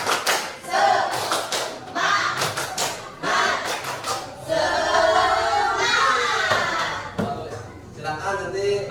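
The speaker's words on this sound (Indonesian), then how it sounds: "kita tepuk semangat dulu bersama-sama" A school class does a rhythmic spirit clap, sharp group claps in patterned bursts alternating with chanted voices and shouts, loud and close in a room.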